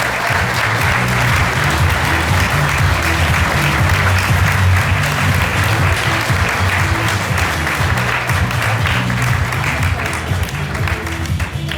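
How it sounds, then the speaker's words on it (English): Sustained, loud applause from a large audience at a national science fair awards ceremony, dense clapping continuing without pause for about twelve seconds, with faint voices mixed beneath. "Big round of applause"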